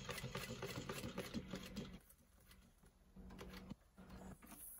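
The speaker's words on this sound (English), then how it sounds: "So now you just want to go and backstitch." Sewing machine backstitching velcro onto a clear vinyl tote bag, a close mechanical whirring burst that briefly stops and restarts in short runs, with no talk.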